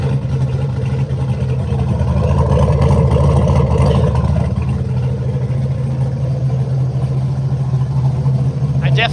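An LS-swapped AMC AMX's V8 runs with a loud, throaty, close-up rumble that holds steady throughout, with only slight swells where the throttle is blipped.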